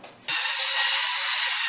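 A steady, loud mechanical whir starts abruptly after a brief quiet moment and holds without a break, like a power drill driving a screw into a hinge being fixed to a wall.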